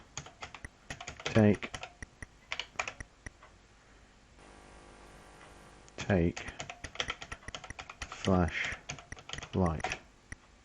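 Keys clack in quick uneven bursts on a ZX Spectrum computer keyboard, close and crisp, with short pauses between flurries and a voice speaking briefly amid the typing.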